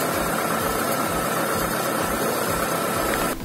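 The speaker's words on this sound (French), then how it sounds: "On entend le moteur qui tourne rond, c'est impeccable." A Peugeot 407 car engine idles smoothly and steadily with a low, even rumble and constant mechanical hum after injector cleaning, close by, cutting off abruptly at the end.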